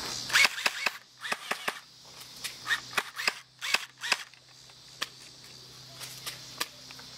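Airsoft gun fired rapidly in a backyard game, a burst of sharp close snapping shots in a quick irregular string, then scattered single pops that grow sparser, with no talk.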